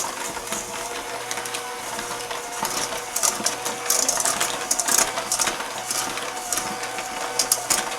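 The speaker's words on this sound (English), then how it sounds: "now let's put on our electric mixer. We're going to beat this for 2 minutes" An electric mixer beats muffin batter for strawberry chocolate chip muffins, a continuous close whir with rattling, clattering beaters knocking the bowl, loud and alone without speech.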